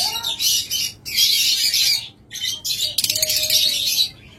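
Pet cockatiels and lovebirds kept for sale squawk and chirp in loud, harsh bursts close by, several calls in quick succession with short gaps.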